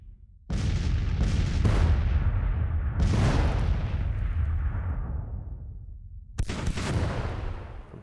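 Artillery fire in a Civil War game: a heavy cannon blast booms and rumbles off into a long fading roll, with rapid follow-up reports layered in, then another sharp close blast near the end.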